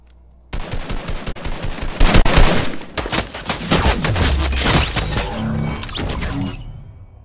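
Rapid automatic gunfire from the video game Junkrift, with loud sustained bursts and dense overlapping shots for several seconds and no talking.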